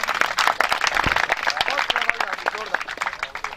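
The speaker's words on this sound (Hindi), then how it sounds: "सामने बहुत जोरदार ताली बजाइए" Audience at a village cowshed gathering claps loudly and continuously, brisk overlapping claps filling the moment while voices carry on over them.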